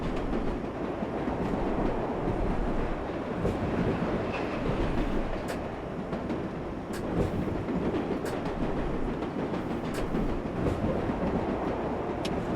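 A New York subway train in World of Subways 4 rumbles steadily throughout, a dense continuous roar of wheels and motors with faint rhythmic clicks and brief high squeals, no voices.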